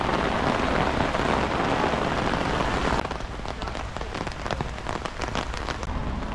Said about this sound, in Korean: 산에서 내려오니까 예, 비가 오기 시작합니다